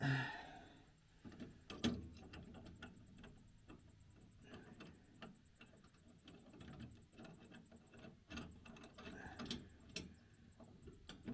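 A nut is tightened onto a Hooke Road truck bed rack with a ratchet: a quiet run of small mechanical clicks and short metallic ticks, fairly close, with no talking.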